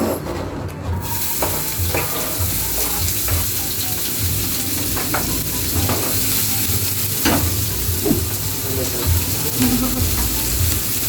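Onions frying in a very hot pan with a little oil, a loud steady sizzle with scattered stirring scrapes and taps close by, and no one speaking over it.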